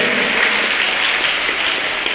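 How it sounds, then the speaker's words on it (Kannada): Sustained applause from a crowd, dense and steady clapping throughout with no pauses. "ಇನ್ನೊಮ್ಮೆ ಜೋರಾಗಿ ಚಪ್ಪಾಳೆ ತಟ್ಟಿ."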